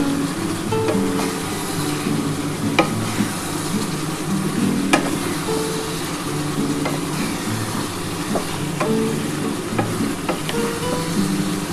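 Mutton sizzles and fries in a pan while being sautéed for kosha, a steady crackle broken by scraping and clinking as a spoon stirs it every second or so.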